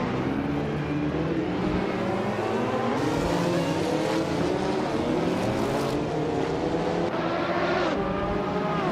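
A 1990 Mazda 787B rotary-engine race car in a racing video game, its engine whining and rising in pitch through gear changes, a continuous loud buzzing scream with repeated shifts.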